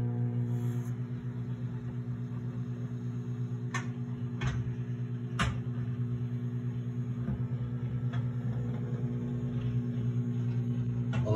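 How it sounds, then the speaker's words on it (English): A microwave oven runs with a steady low hum droning on without pause, with a few faint clicks and ticks scattered over it. "Alexa, microwave 20 seconds."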